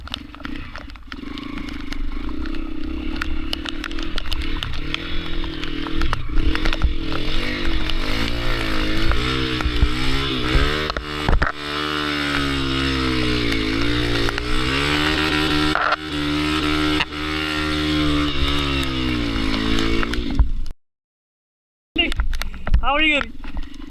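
An off-road motorcycle, Xpulse or Himalayan, runs loud and close on a monsoon trail at Mount Sathram, its engine note rising and falling with revs before a short silent gap near the end.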